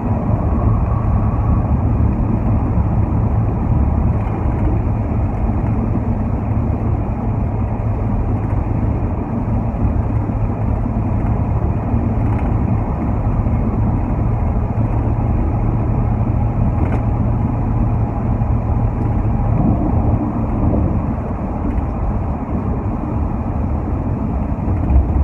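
A car travels at speed, heard from inside as a loud, steady low road and engine rumble that carries on unbroken with no voices.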